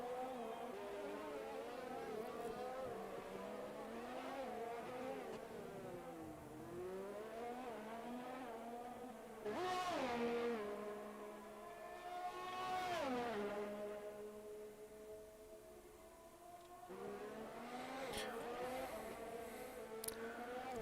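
Formula 1 cars race around the Baku street circuit in a PC racing game, engines whining and sweeping through gear changes and pass-bys at moderate volume, with rising and falling revs throughout.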